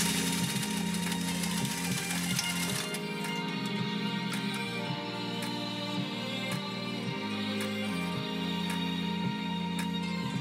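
A Japanese sewing machine stitches genuine elk hide at a large stitch setting with high presser-foot pressure, a steady loud mechanical whir with a rapid repeating needle rhythm throughout.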